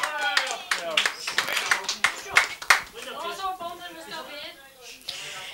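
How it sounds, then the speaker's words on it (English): An audience claps in a burst of applause after a woman sings an Irish ballad at a local televised performance. Voices carry over the clapping as it fades. "Give her a big round of applause there"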